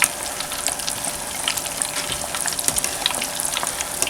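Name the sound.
meatballs frying in oil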